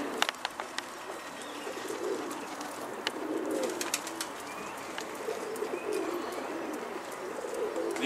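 Pigeons coo in low, rounded phrases that repeat every couple of seconds against a steady outdoor hiss, with sharp ticks and clicks scattered throughout and no voices.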